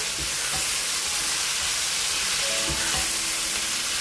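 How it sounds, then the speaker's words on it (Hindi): Meat frying with bottle gourd and spices in a pan, giving a steady, close, broadband sizzle and hiss with faint scrapes as it is stirred. "मीट को भी हम साथ साथ घुमा लेंगे, थोड़ा फ्राई करेंगे मीट को।"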